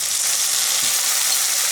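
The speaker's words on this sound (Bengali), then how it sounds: "এখন দিয়ে দেবো আমি বাটা মশলা। এই যে আদা রসুন বাটা, আর এখানে আছে জিরে ধনে বাটা।" Ginger-garlic and cumin-coriander paste frying in a pan over softened onions, a loud, close, continuous hiss with no break.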